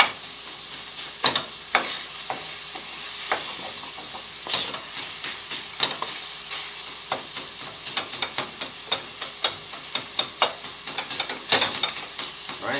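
Ground beef for lasagna searing and being broken up in a pan, a loud constant sizzle punctuated by frequent sharp scraping and tapping strokes of a utensil.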